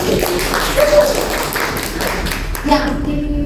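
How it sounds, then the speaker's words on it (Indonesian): Applause from a small lecture audience fills the clip, a steady dense patter of hands clapping with faint voices mixed in, fairly close and even throughout. "Kasih tepuk tangan."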